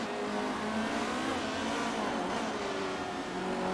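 Race cars circling the track in the Motorsport Manager racing game, a faint steady engine drone with shifting whining tones, continuous and distant with no voices.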